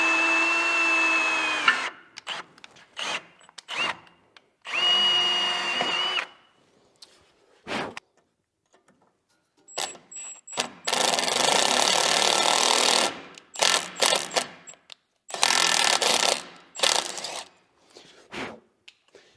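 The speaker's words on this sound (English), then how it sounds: "So I'm gonna go ahead and drill some locations and tap" Drilling and running a 1/4-20 tap with an impact driver in a workshop, bursts of loud rattling hammering separated by silences, some with whining motor tone at the start.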